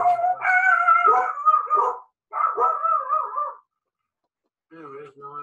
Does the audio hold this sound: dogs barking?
yes